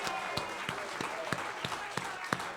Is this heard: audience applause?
yes